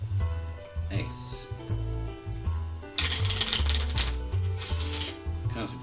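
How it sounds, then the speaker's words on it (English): Playing cards are shuffled during a card trick, brief riffling bursts that swell around the middle, heard under a steady musical backing. "Cards would be shuffled one final time."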